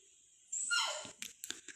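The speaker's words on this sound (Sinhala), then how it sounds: "කෑ ගහනවා ඇහෙනවනම් ගණන් ගන්න එපා. අපේ බල්ලගේ හැටි ඔහොම තමයි." A pet dog gives a single short, high-pitched yelp or whimper at close range, followed by a few faint clicks.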